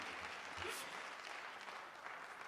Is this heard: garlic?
no